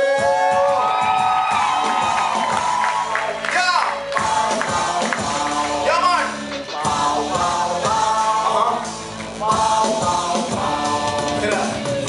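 A crowd at a live Christian rap concert cheers, whoops and claps over the band's loud music, shouts and applause swelling in bursts within the busy mix.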